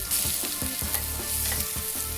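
A pork chop sears in a hot pan after being flipped, giving a steady close sizzle and crackle with light scraping and stirring, and no voices.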